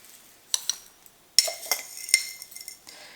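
Tablespoons of homemade pickling spices dropped into glass canning jars: a scattered series of sharp clinks and small rattling taps, close and crisp, with quiet gaps between them and no talking.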